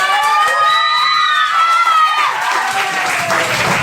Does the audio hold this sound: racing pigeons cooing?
no